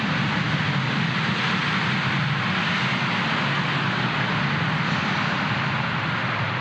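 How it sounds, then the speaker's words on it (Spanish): Airplanes pass over at Mérida airport, their engines producing a loud, steady, broadband roar that fills the whole stretch without letting up. "Pasan los aviones porque estamos en el aeropuerto de Mérida"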